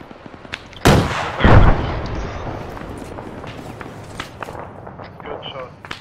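A rocket launcher fires with a heavy back blast in a military video game, two loud booming blasts close together followed by scattered footsteps and faint distant shots.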